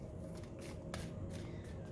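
Playing cards are shuffled during a tabletop card game, a quick, quiet riffle of flicking cards with a couple of sharper snaps, heard close.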